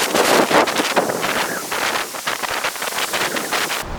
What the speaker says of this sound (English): This is a windy day.